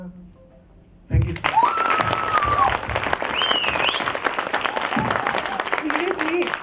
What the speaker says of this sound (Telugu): సీరియస్లీ చప్పట్ల కంటే అక్కడ కొందరు అమ్మాయిలు గట్టి గట్టిగా సౌండ్ చేస్తున్నారు సార్